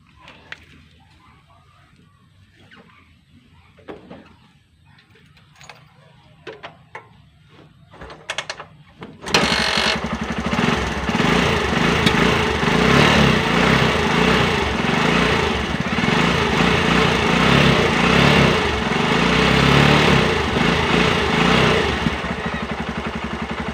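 Small carbureted motorcycle engine, freshly cleaned carburetor, starts after several seconds of quiet clicks and fiddling, then bursts into a loud, steady, buzzing idle close by that runs without letup to the end.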